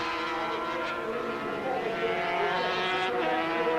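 Racing car engine at a British championship race, revving steadily at close range with rising and falling pitch as the driver shifts gears, loud and continuous with some wind noise.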